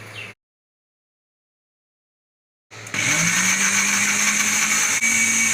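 A kitchen blender mixes cream and sauce for a cheese sandwich spread. After a short burst and a silent gap, the motor starts up with a rising whine and then runs loud and steady.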